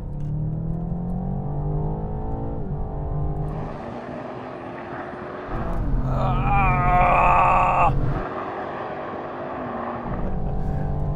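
A BMW car launches hard from a standstill in sports mode at a drag race, its engine groaning and rising loudly through the revs, with a brief higher whine mid-run.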